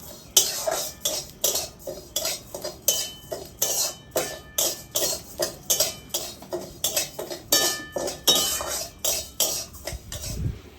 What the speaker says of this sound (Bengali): চালটাকে আমি ঘি দিয়ে একটু ভেজে নেব।